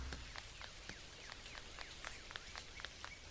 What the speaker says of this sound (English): since it's raining and all